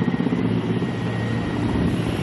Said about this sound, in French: Pourtant, malgré le balai des hélicoptères